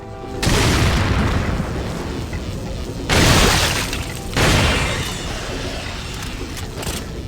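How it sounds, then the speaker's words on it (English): A TNT explosion in the 2005 video game Resident Evil 4, on the island stage, gives a loud booming blast followed by a sustained roaring rumble and a second heavy burst, with no talking over it. "That's TNT, I gotta be careful. Should blow up and kill his buddy."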